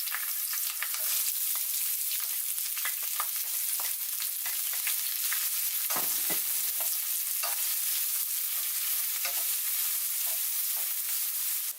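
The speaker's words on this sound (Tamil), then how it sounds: "சேர்த்துட்டு இந்த சின்ன வெங்காயம் கொஞ்சம் ப்ரௌன் ஆகுறது வரைக்கும் அதை லைட்டா வதக்கிக்கோங்க." Small onions sautéing in a hot pan for mutton fry: a steady, close sizzle of oil with scattered clicks and scrapes from stirring, running continuously without any talk.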